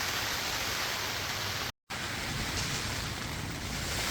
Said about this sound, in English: Oh boy, here comes the wind.